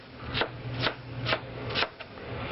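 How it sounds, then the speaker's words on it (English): Celery stalks are chopped with a knife for a gumbo, four or five crunchy, evenly spaced cuts over a board, close and moderately loud above a steady low background hum. "Okay, we're cutting the celery up."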